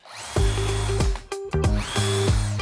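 A power drill drives screws into a wooden garden table, its motor whining up in several loud bursts of about a second each, with brief pauses between runs.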